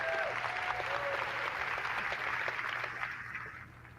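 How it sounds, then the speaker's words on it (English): An audience at a conference keynote watch party gives a few seconds of steady, moderately distant applause that gradually fades. "give a big applause to Harim."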